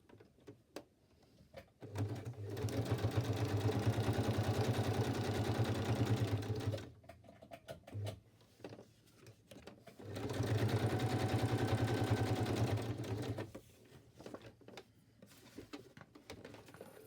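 A sewing machine stitches through paper to form a pocket, in two steady whirring bursts of several seconds each, separated by quiet handling noises and soft taps.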